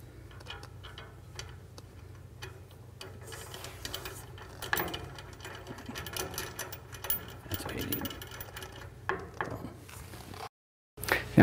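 A large bolt with a big washer is tightened to anchor the post during assembly of a Laguna CFlux 3 machine, heard as a steady run of quick ratcheting ticks up close that grows louder and irregular toward the end.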